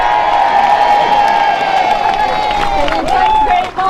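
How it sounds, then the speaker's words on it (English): A crowd at a Brexit Day rally in Scotland gives a big cheer for a speaker, a loud, continuous roar of voices and whoops with some clapping mixed in, fading out sharply at the very end. "can you have a big cheer please for Heather Anderson?"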